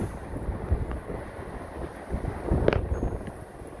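Strong gusty wind during a Las Vegas windstorm rushes and buffets across a backyard, with a low rumbling roar that swells midway and a brief sharper gust before settling.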